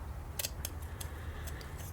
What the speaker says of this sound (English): I'm gonna use those scissors for cutting this